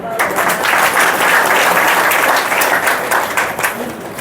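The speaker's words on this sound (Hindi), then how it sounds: "ताली बजाओ भाई।" A large audience at a spiritual discourse claps steadily and loudly, a dense continuous wash of hands throughout with a faint voice underneath.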